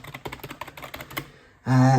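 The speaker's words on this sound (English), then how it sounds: "Anyone in the market for a new LED coloured keyboard? Listen at that" Fast typing on an LED coloured computer keyboard, a dozen crisp close key clacks in quick irregular rhythm, followed by a loud sustained tone.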